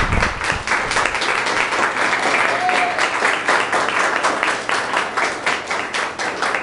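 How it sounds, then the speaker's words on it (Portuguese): Loud, sustained applause from a church congregation during a worship service, many hands clapping vigorously and continuously, with some voices mixed into the crowd. "Então vamos aplaudir o Senhor bem forte"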